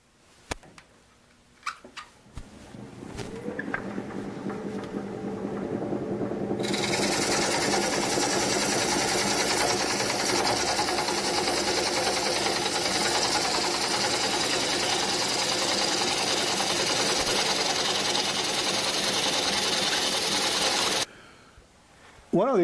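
An American Beauty woodturning lathe with a sliding headstock spins up after a few clicks and then runs with a steady, loud mechanical hum and whir before shutting off and winding down near the end.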